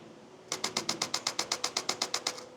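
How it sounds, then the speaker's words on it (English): A Canon camera's mechanical shutter fires in a fast continuous burst of about fifteen crisp, evenly spaced clicks, close and clear against a quiet room. "Now, I'm going to switch to my setting for mechanical shutter mode."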